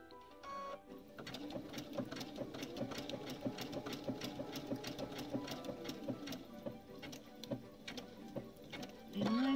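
Domestic sewing machine stitching a zigzag edge on a Dresden plate quilt flower, a close, quiet run of rapid rhythmic needle ticks and motor hum, slowing to a few single stitches.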